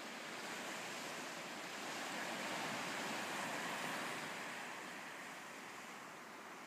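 Sea waves on the Bristol Channel shore make a faint, steady, broad wash that swells gently in the middle, with no voices.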